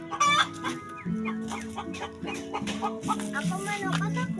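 Farmyard chickens cluck in quick, overlapping bursts close by, with short rising calls scattered through a few seconds and a faint voice underneath at times.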